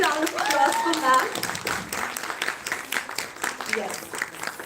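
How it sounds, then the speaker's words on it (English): Indoor event audience at CII Chandigarh clapping for a newly introduced guest, a dense patter of applause with a voice speaking over the start and cheers threaded through. "A big round of applause for ma'am."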